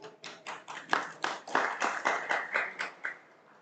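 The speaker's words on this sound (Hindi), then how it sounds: "तालियां क्यों बजा रहे हैं?" A small audience at a political speech claps in a slow, steady unison rhythm, about a dozen distinct beats, close and moderately loud with no talking over it.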